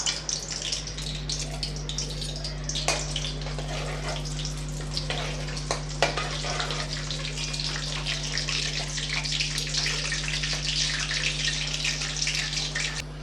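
Whole spices such as bay leaf, fennel, a cinnamon stick and kalpasi sizzle steadily in hot oil for tempering while chicken thokku is being cooked, a continuous close frying hiss with small crackles.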